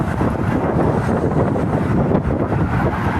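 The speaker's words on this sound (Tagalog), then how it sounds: "Uy, malakas ang hangin." Strong wind buffets the microphone in a dense, continuous roar with no voices.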